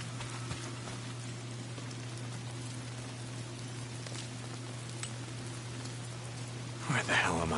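Steady rain falls in the video game Days Gone, a continuous soft hiss over a low hum, with a brief louder rustle near the end.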